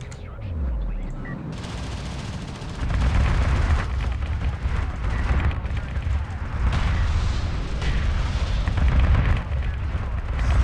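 Gunships open fire in the real-time strategy game Homeworld: Deserts of Kharak, producing a dense, continuous barrage of rumbling cannon and gunfire bursts that stays loud throughout, layered with battle noise.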